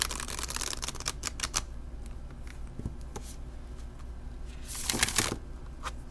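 A deck of tarot cards is shuffled in quick crisp riffles and flicks, close up, with bursts of rapid snapping separated by quieter handling.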